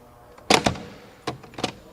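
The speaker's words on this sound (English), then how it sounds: "What a door closing sound. This is really a classic." Two solid door closes on a classic Mercedes-Benz W116 350 SE S-Class, each a sharp thunk with a quick second latch knock, close up and clear against quiet surroundings.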